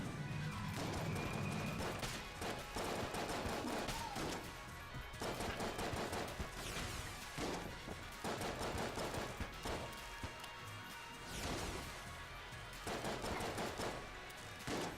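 Rapid, continuous gunfire from the Deckford pistol in the video game Enter the Gungeon, a dense run of sharp shots in bursts with brief gaps, loud and close over the whole stretch with no talking.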